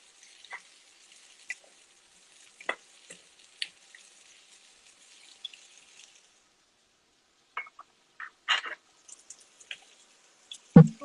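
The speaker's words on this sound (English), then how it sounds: "Stir fry vegetable." Vegetables with red cabbage stir-fry in a pan, with a faint hiss broken by sparse sizzling crackles and scraping clicks. It quiets in the middle, then turns busier and louder near the end.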